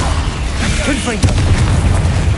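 A Confringo blasting curse goes off in Hogwarts Legacy, a sharp boom at about the midpoint set against steady dense game noise, with a voice speaking at the same time.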